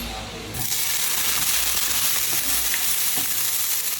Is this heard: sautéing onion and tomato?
yes